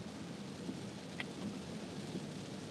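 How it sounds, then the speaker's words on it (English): Heavy rain pours outside a car at night in Pittsburgh, a steady dense hiss of water on the roof and windows with a faint rumble underneath, no talk. "it's pouring rain here in Pittsburgh"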